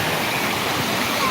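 A waterfall at Medaram roars as a dense, loud, continuous rush of falling water, with no break across the moment.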